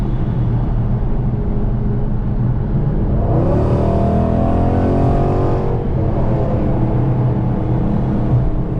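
A cammed 5.7 V8 car pulls hard on the highway with its sunroof cracked open, the engine note swelling into a rising, close, loud surge for a couple of seconds over steady road and wind roar, then settling back.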